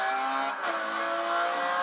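Ferrari Enzo accelerating in the racing game Forza Horizon 2: a loud, sustained, high-pitched engine roar holding steady at high revs, with no talking.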